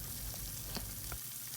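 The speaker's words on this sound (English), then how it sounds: "we'll add the chicken pieces one by one" Chicken pieces frying in oil heated over a high flame, a steady close sizzle with a few soft pops and crackles throughout, no talking.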